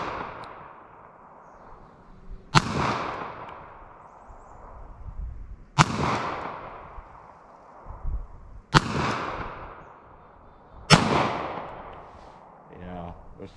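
Smith & Wesson Governor revolver firing .410 slugs at a 50-yard target outdoors, with four sharp, loud shots spaced a few seconds apart, each trailing off in a long echo, and a brief voice at the end.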